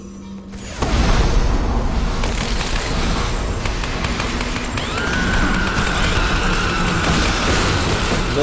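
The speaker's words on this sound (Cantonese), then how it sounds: "有啲大爆炸。" A big explosion in the video game Lara Croft and the Temple of Osiris starts with a sudden loud boom, then a sustained roaring, crackling rumble that keeps going for several seconds, with game tones ringing on top.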